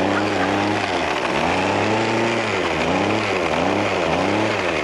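Small gas-powered portable engine on a tailgating device with a little throttle, buzzing loud and close, its pitch dipping and rising in a few surges as it is throttled.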